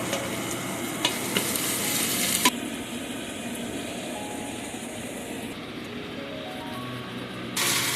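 Meat frying in oil with thyme while being stirred in a pot for Guyanese metemgee soup, a steady close sizzle with scraping stir strokes and a few sharp clinks, with no talking.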